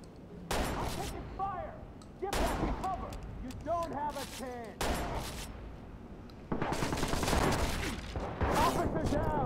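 Gunfire from a weapon in the video game Watch Dogs, rapid repeated shots in long stretches at moderate volume, while a player talks excitedly over the shooting.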